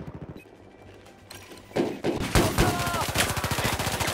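Rapid bursts of automatic gunfire in Battlefield 4 on a 64-player Dragon's Teeth Rush map, starting faint and building into loud, dense sustained shooting after a couple of seconds.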